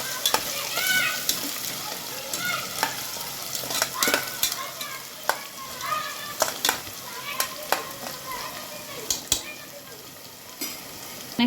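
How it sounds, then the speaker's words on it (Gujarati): Ginger and finely chopped garlic stirred in a pan for palak pulao, a soft sizzle under repeated scraping and clinking of a spoon against the pan at an uneven rhythm. "આદુ અને ઝીણું કાપેલું લસણ। પહેલાં આને સારી રીતે મિક્સ કરીને હલાવી લઈશું"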